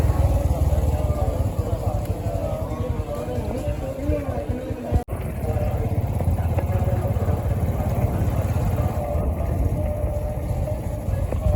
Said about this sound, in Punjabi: ਮੋਟਰਸਾਈਕਲ ਆਪਾਂ ਪਾਰਕਿੰਗ 'ਚ ਪਾਰਕ ਕਰਤਾ ਹੈ ਜੀ